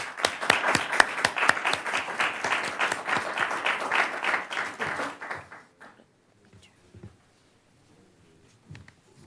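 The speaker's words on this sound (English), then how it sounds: "I would ask that everybody give them a round of applause" A small audience at a city council meeting claps steadily for about five seconds, the applause fading into near silence with a few faint taps afterward.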